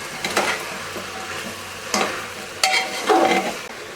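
Spices of coriander powder and garam masala being stirred into masala rice in a pan, with a few scraping, sizzling spoon strokes in bursts, close and fairly loud with no talk.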